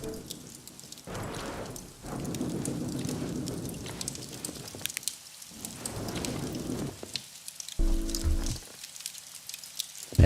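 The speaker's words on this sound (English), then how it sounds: "Sounds like the storm is dying down." Heavy rain from a video game storm falls steadily and close, with low rumbling thunder swelling through and a brief mechanical rattle near the end.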